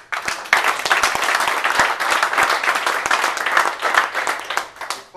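Audience at a campaign event in a neighborhood food business bursts into steady, dense applause, many hands clapping together for several seconds.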